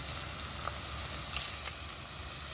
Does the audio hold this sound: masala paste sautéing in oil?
yes